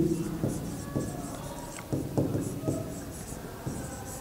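Marker or chalk strokes on a board while a probability problem is worked out, heard as a series of short scraping taps at an irregular rhythm, close and moderately quiet.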